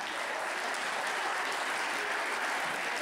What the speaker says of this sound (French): J'ai du temps pour vous remercier pour tous vos applaudissements si chaleureux.